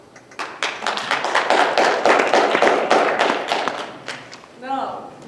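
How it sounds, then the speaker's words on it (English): An audience at a Fremont High School production of A Midsummer Night's Dream applauds loudly and steadily for about four seconds, then the clapping fades as a voice comes in. "Please applause."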